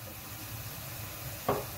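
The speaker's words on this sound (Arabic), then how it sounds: "من بعد ما هبطت هذيك البصله راه تقلات مزيان، بقيت كنحرك فيها" Onion frying in a pan, a quiet steady sizzle with a single clear knock of a spoon against the pan as it is stirred near the end.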